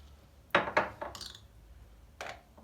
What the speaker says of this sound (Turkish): Şekerimizi de koyalım.